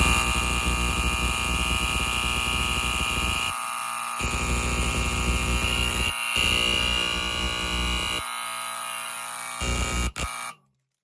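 An Edwards Adaptahorn fire alarm horn blares in a harsh, buzzing tone, loud, pulsing in several long bursts with brief gaps, then cuts off abruptly.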